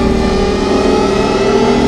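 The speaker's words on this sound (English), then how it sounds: "Imagine driving an electric muscle car and it sounding something like this." Loud, sustained engine roar of a car accelerating, a dense continuous tone under steady load, presented as the kind of sound an electric muscle car like the Chevy Camaro might make.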